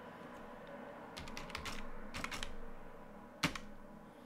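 Keystrokes on a computer keyboard as a command is typed, a few scattered clusters of soft clicks followed by one sharper, louder key press near the end, close and quiet with no talking.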